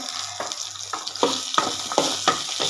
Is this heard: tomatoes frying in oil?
yes